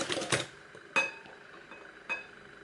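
Whisk or spoon clinking against a bowl while melted butter is mixed into foamy whisked eggs for a boozy brioche bread and butter pudding: a short burst of stirring, then two sharp isolated clinks, close and fairly quiet.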